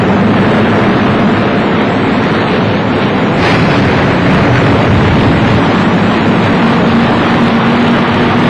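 Grand Slam bomb exploding at the Arnsberg viaduct, heard as a sustained, heavy rumbling roar with a dense low-frequency wash that stays loud throughout, with no distinct onset.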